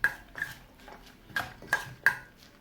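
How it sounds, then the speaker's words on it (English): Kimchi sauce being mixed in a bowl, with a handful of sharp clinks and scrapes of a utensil against the bowl spaced at an uneven rhythm, close and fairly quiet. "That is the kimchi sauce I'm mixing here."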